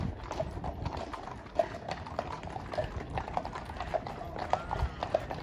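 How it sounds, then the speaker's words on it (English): Several horses walk past outdoors, their hooves clip-clopping in an irregular, overlapping rhythm at moderate distance, with some faint background voices. "Are they dirty horses?"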